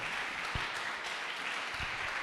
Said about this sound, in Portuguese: Aplaude com alegria pela vida da pastora Andréia.